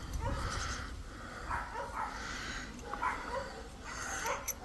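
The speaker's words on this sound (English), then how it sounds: "Every dog in the neighbourhood's going mad." Neighbourhood dogs bark in scattered bursts at a distance, faint over steady outdoor background noise during garden office roof joist work.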